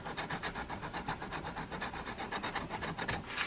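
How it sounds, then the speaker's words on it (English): The flat side of a blade scrapes a fishing reel spool in quick, evenly rhythmic strokes, about five per second. The rasping is close and continuous. "I'm going to use the flat side of a blade here to run that through"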